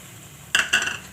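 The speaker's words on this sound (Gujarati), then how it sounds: "તો હવે આપણે એમાં પાણી નાખશું." Water poured from a cup into cooked masala in a pan, two short bursts of splashing and sizzling, close and fairly loud, with no talk.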